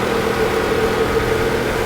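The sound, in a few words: multi-air 2.4 engine running at idle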